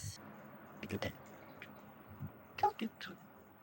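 A cold cocktail is strained from a shaker, giving quiet, scattered drips and a few soft clinks and squishes in brief bursts, with a faint voice in the background.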